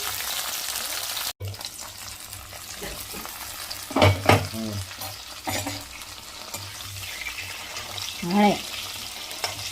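Stuffed bitter gourd sautéing in a pan gives a soft, continuous sizzle, with a sharp clatter near the start and occasional stirring scrapes, while someone speaks briefly.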